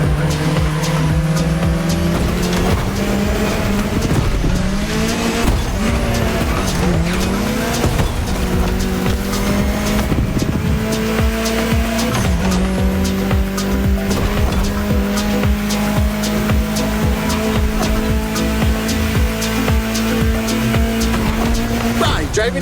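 A car engine drones continuously through a Hawaii scenic drive in the racing game The Crew Motorfest, with shifting revs and bursts of tire squeal, loud and sustained throughout.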